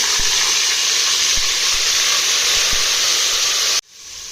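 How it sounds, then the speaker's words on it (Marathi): Asafoetida and ground chili hit smoking-hot oil, giving a loud, steady hiss of frying with faint crackles throughout, cutting off abruptly near the end. "तेल गरम झाले त्यामध्ये आपण हिंग टाकू त्यामध्ये वाटलेली मिरची टाकू"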